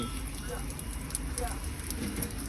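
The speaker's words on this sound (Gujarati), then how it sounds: "વરસાદ ચાલુ છે" Rain falls steadily on a trip to Mount Abu, a soft constant patter mixed with other background noise while people talk nearby.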